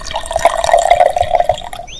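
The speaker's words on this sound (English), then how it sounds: "Well spotted, Mummy Sheep, gasped Daddy Pig, pouring oil into the engine." Oil is poured into a car engine in a cartoon scene: a quick run of gurgling, dripping liquid glugs in a loose rhythm, close and clear, ending with a short rising whistle-like tone.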